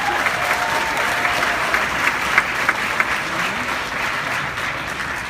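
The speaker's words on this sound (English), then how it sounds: "let us give all of our families, caretakers, and friends a round of applause" A graduation audience applauds steadily throughout, a dense wash of many hands clapping at a consistent level with a few sharper individual claps standing out.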